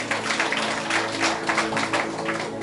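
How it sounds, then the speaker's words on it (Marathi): Loud rhythmic hand clapping fills a church gathering during a Marathi sermon, with dense overlapping claps sustained over a low electrical hum and no talking. "ज्यांचं लागतं त्यांच्यासाठी मी जोरदार टाळ्या वाजवतो"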